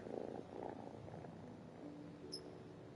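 A cat curled up in Genshin Impact purrs faintly and steadily, a low rumbling close by that fades slightly, and a small high tone sounds near the end.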